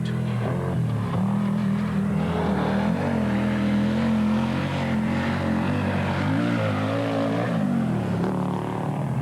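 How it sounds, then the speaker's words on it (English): An Audi Quattro rally car in Rothmans livery runs at the Dubai Rally with damaged exhaust pipes, its engine giving a loud, flat, continuous drone that rises and falls as it revs across soft sand. "because of damaged exhaust pipes and a consequent flat-sounding engine note"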